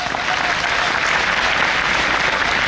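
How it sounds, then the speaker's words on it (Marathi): An audience at a Marathi memorial lecture claps together in a sustained, dense round of applause, loud and even throughout, with no single voice standing out. "जेव्हा वाटेल टाळ्या वाजवायच्या तेव्हा टाळ्या वाजवा."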